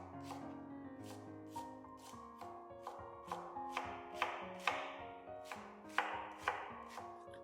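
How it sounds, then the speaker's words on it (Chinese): A knife shreds halved, cored cabbage finely on a cutting board, a run of about fourteen crisp chopping strikes at a brisk, fairly even rhythm, close and clear over quiet background music. "接着再改刀给它切细丝"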